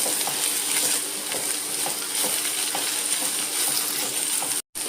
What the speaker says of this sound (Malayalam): നമുക്ക് ഉള്ളിയും കൂടെ നല്ലോണം ഒന്ന് വഴറ്റിയെടുക്കാം